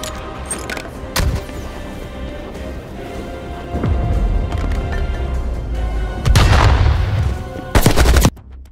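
Gunfire from the video game Call of Duty Black Ops Cold War: sustained automatic bursts with sharp, loud shots cutting in around the midpoint and near the end, over a steady bed of battle noise.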